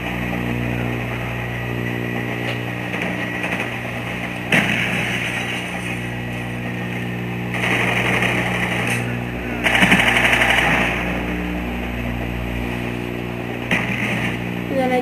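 Rapid bursts of automatic MP5K gunfire in a first-person shooter match, loud and sustained with several sharper volleys standing out over a constant engine-like drone and game music.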